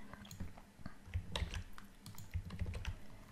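Fingers tap a computer keyboard in quick, irregular bursts of soft clicks, close and fairly quiet, with no voice over them.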